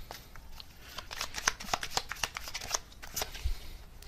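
Tarot cards riffled and drawn from a deck during a reading, a rapid run of close, crisp papery flicks and snaps with a few sharper slaps, no talking.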